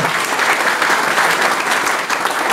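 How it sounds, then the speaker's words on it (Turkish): Dense audience applause at the opening ceremony of a guesthouse in Mudanya, loud and steady throughout with no pause, many hands clapping close together. "Asıl bir alkışı da onlara istirham ediyoruz"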